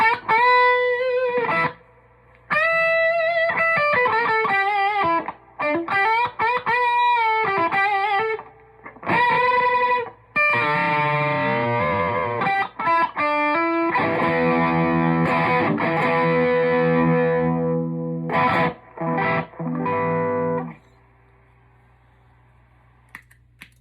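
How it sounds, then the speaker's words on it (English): Heavily overdriven electric guitar through a Klon, Tube Screamer and OCD pedals into a Deluxe Reverb amp plays choppy riffs and sustained chords, loud and saturated, with brief silent gaps between phrases. "That was a Klon into a Tube Screamer into an OCD into my deluxe reverb."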